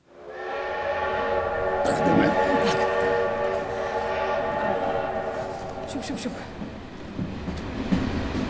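A train pulls away with a sustained droning, whining rumble that swells and holds, close and loud, with clanking and brief squeals toward the end.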